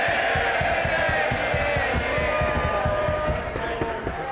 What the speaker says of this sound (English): Cheer him by all means, but don't damage, come on.